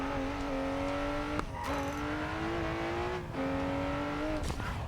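An old-era Diablo SV race car in the Racing Master game revs hard, its engine note climbing steadily in long pulls broken by brief shift gaps, loud and close with no talk.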